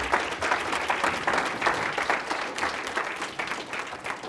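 A seminar audience gives a round of applause, many hands clapping in a lively, dense burst that stays fairly loud and even before tapering slightly toward the end, with no speech over it.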